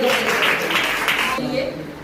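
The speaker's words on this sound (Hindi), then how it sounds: "आइए जोरदार ताली बजाएं" A church congregation breaks into applause during a service, a dense wash of clapping hands filling the hall steadily for about two seconds before thinning slightly at the end.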